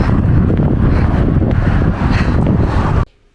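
Strong outdoor wind buffets the microphone in a loud, continuous roar for about three seconds, then cuts off abruptly into near silence.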